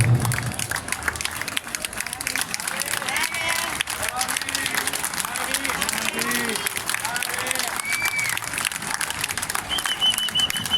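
An audience at an outdoor vintage-themed summer evening concert in Novi Ligure, Italy, claps steadily for about eleven seconds, a continuous dense patter mixed with crowd murmur and a voice over it.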